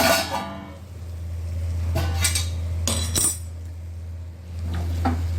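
A metal lid lifted off a frying pan holding frying dried shrimp, with a few sharp metallic clinks and scrapes over a steady low hum, close and moderately loud, with no talking.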